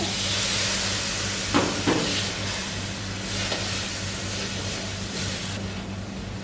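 Thai curry paste stir-frying with coconut cream in a pan over moderate heat, a steady close sizzle and hiss with a couple of brief louder spatters.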